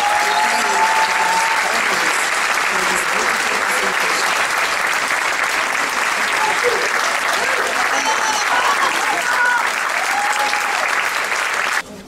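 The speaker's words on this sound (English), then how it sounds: "A big applause for our young karateka for their dedication and perseverance." Strong, continuous audience applause for young karate students at a lecture and demonstration in Lebanon, dense clapping holding steady for the full length with a few faint voices mixed in before it stops abruptly.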